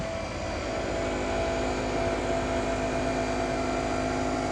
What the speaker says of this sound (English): Insane set of hydraulics.